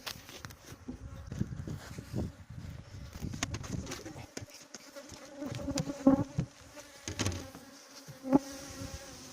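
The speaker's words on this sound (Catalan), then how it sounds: "Tot d'abella a dalt." Honeybees buzz around an open hive nucleus box while queens are being raised, a close, wavering hum with irregular swells and a few louder passes near the listener.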